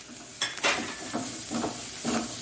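Masala poha (flattened rice with spices and carrot) stirred and frying in a pan: soft sizzling with several spoon scrapes against the pan, close and moderately quiet, no talking.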